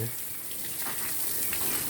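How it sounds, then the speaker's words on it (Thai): Water gushes hard from a hose in a steady, hissing spray, fairly quiet and continuous throughout the short stretch. "น้ำไหลแรง"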